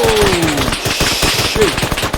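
Loud, sustained automatic machine gun fire in the Arma 3 military shooter game, rapid rounds rattling continuously in dense bursts with no pauses.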